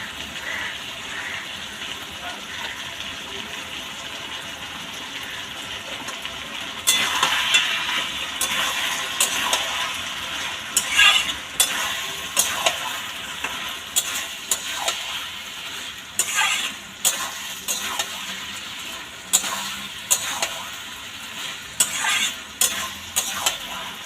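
Pui mituli curry of Malabar spinach and mussels sizzles in a pan over a raised gas flame while a spoon stirs it, giving repeated scraping clicks over a constant frying hiss.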